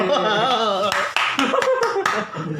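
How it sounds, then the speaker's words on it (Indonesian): A few sharp hand claps ring out during a lively talk-show conversation with a doctor, scattered and irregular, over voices and laughter. "gue mau tepuk tangannya"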